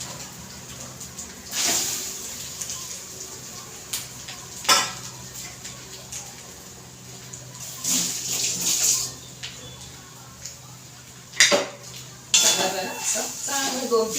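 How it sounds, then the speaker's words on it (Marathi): Grated coconut is stirred in ghee in a kadhai with a metal spoon, making repeated scraping and clanking strokes in bursts over a low background hum, with a voice talking now and then. "दोन तीन मिनटं चांगल्याला तुपामध्ये चांगलं हलवून देते"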